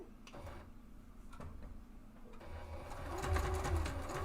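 Sewing machine stitching slowly around the handle of a fabric caddy, a faint low mechanical whir that gradually grows louder and denser.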